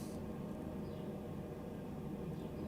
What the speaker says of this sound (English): I turned on the ventilation system and I forgot to turn it off.